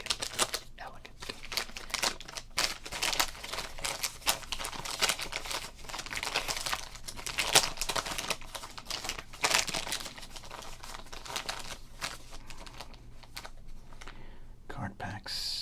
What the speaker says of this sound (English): We gotta do some crinkling, right?